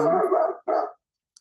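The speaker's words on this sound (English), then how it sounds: "I noticed at the end, that's my dog, sorry." A dog barks twice, loud and close, one bark right after the other, then goes quiet.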